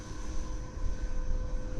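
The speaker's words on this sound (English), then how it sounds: "That's one thing about EDFs, they do sound a lot nicer than prop planes." An FF 35V2 70mm EDF model jet in flight, a steady whooshing ducted-fan whine held at an even level throughout.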